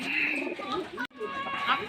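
Racing pigeons coo in a loft while being readied for a 7 km training toss, their soft warbling calls steady and close over two seconds, broken by a brief cut, with faint bird chatter around.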